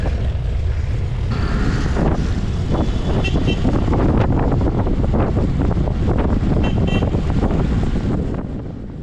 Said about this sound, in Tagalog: Ang lakas ng hangin pasalubong habang papuntang Infanta